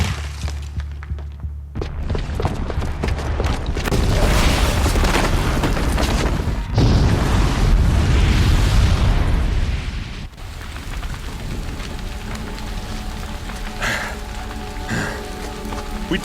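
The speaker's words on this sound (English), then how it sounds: "the booby trap on the bomb downstairs is gonna get set off" A bomb blast in the action game Horizon Zero Dawn, set off by a booby trap downstairs: a loud booming rumble with crashing debris that swells and lingers, then dies into a quieter ambient wash with scattered rattles.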